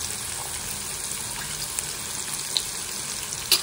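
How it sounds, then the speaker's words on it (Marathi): Asafoetida and curry leaves sizzle and splutter in hot oil for a tempering, a steady close crackling hiss with a few sharper pops near the end. "हिंग, कढीपत्ता तडतडू देऊया जरा"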